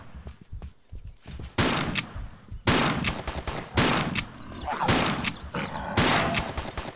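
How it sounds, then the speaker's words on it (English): Shotgun blasts in Tomb Raider III on PC, a series of loud, close, booming shots in irregular succession, each with a short ringing tail, mixed with smaller clicks and game sounds. "That was 6 shotgun shots."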